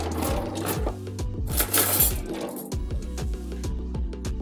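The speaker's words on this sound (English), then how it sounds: "We're going to give this a quick stir. What I like to use is just use a fork." A fork stirs flour with paprika, pepper and vegetable seasoning in a bowl for garlic butter chicken wings, giving close, rapid metallic clinks and scrapes in an uneven, busy rhythm with no talking.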